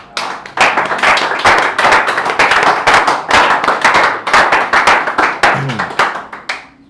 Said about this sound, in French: Alors nous allons acclamer pour le Seigneur Jésus.